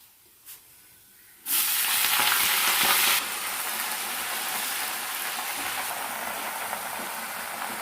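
Leaves with lentils and chillies fry in a hot pan, a loud steady sizzle bursting in after a quiet start and then settling into a continuous crackling hiss.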